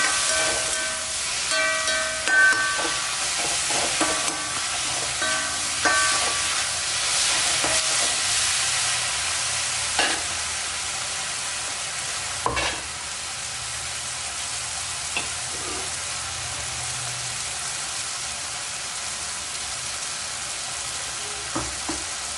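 Ingredients sautéing in a pan with salt for a Sri Lankan coconut sambal, a continuous soft frying hiss with occasional scrapes and clinks of stirring, fairly quiet and steady throughout.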